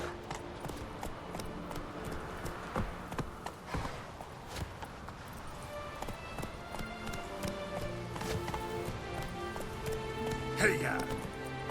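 Horse hooves clip-clopping at a run in The Witcher 3, steady rhythmic beats close by over rain-like ambience and game music, with a voice urging the mount on.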